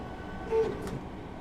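A Class 313 electric train pulls away from Essex Road station in Train Simulator 2017, giving a steady, subdued low rumble with a brief tonal whine partway through.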